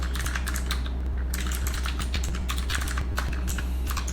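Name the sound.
typing code on a computer keyboard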